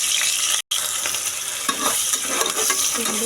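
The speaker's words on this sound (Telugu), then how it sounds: "లవంగాలు వేసిన తర్వాత ఆనియన్స్ అయితే వేసేసుకుందాం. ఆనియన్స్ బాగా ఫ్రై అవ్వాలి." Onions fry in hot oil with cloves in a pan, a loud, steady sizzle close up with occasional stirring scrapes and one brief dropout.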